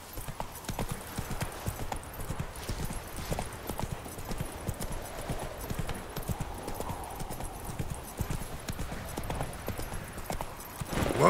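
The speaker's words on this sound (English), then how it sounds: "Whoa there, Roach" The horse Roach in The Witcher 3 video game, hooves clip-clopping in a steady trotting rhythm, fairly quiet and continuous, with faint voices and game ambience underneath.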